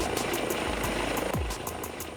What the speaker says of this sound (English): he can't hide from the police chopper